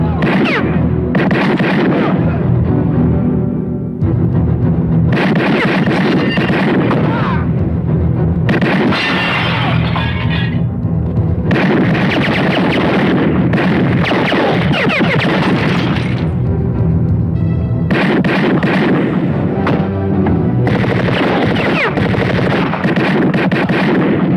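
Continuous loud bursts of gunfire and booming blasts, dense and close, with short gaps between volleys.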